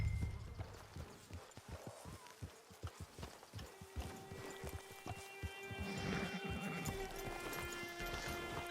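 Horse hooves clip-clopping in Red Dead Redemption 2, a run of close, distinct hoof strikes at a walking rhythm that thins out midway, with a brief whinny-like tone and ambient game sound behind.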